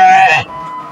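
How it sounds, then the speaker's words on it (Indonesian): A goat in a pen at a livestock farm near Bogor lets out a single loud, close, wavering bleat that cuts off sharply, leaving a quiet background. "Ini kambingnya masih banyak."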